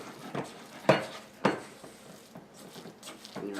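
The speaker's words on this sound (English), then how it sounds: "Make sure you scrape the sides of your bowl." A spoon stirs corn muffin batter in a mixing bowl, giving a few soft, thick scraping strokes close by against a quiet background.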